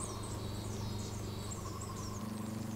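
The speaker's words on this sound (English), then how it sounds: "A scout hornet discovers Yamaguchi's wild bees." Buzzing insects around a wild honeybee hive as a large scout hornet approaches, a steady close drone with a low hum beneath and faint high chirps above.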